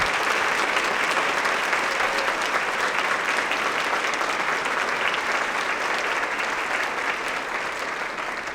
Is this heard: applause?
yes